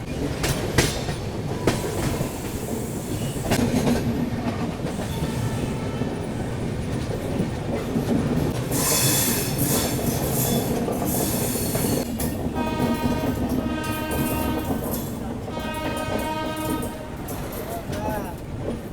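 The Purushottam Express passenger train rumbles steadily along the tracks in India with rhythmic clatter and some squealing, close and loud, with voices talking faintly over it.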